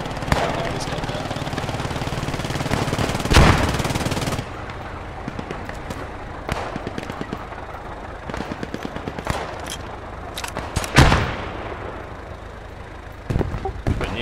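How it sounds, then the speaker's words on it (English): Machine gun fire in the Post Scriptum game rattles in repeated bursts among scattered gunshots and background game noise, some loud and close, others more distant. "MG fire on the hotel already"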